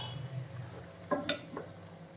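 Chicken pieces frying in reducing coconut milk in a pan being turned over, a couple of brief scraping knocks over a soft continuous sizzle, close and fairly quiet.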